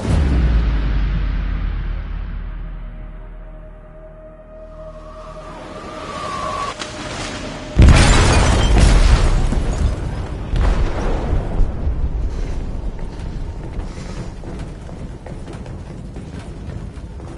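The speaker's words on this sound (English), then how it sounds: "Detonated an explosive in the hold. The ship is sinking, sir." A heavy explosive blast inside a ship's hold in Detroit: Become Human hits suddenly after a quieter stretch, followed by a long rumbling, crackling roar with debris and groaning metal as the vessel starts sinking.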